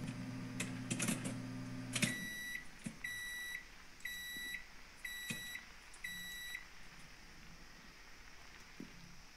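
In a video game, a microwave oven heating popcorn hums under a low drone, and a series of evenly spaced electronic beeps repeats about five times, with soft crackling and faint scattered pops underneath.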